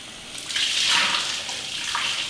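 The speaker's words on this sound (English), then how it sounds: "really important is that you wash your chicken in cold water and make sure it's really clean" Cold tap water runs steadily over a raw whole chicken being rinsed and rubbed clean in a sink, a close, continuous splashing rush that swells briefly in the middle.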